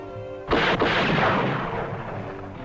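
Loud gunfire in a puppet western show, a sudden sharp blast that rolls into a long, noisy, decaying roar with no talking over it.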